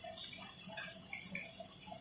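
Water poured gradually into a doughnut dough mixture, a faint steady trickle with soft splashing heard alone at low volume.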